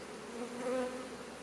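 Honeybees hum around an open hive with freshly emerged bees, a steady close buzzing drone that swells slightly mid-way, with no talk.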